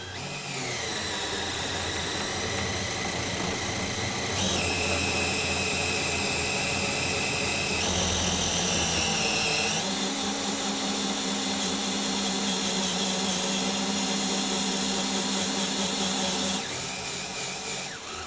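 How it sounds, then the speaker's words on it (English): An 18-volt cordless drill driving a socket to cut a section of pipe inside an Aladdin EasyFit isolator valve, giving a loud, continuous high-pitched whine that shifts pitch several times as the load changes, with no talking. "now going to cut the section of pipe within the valve using your 18-volt drill and the socket"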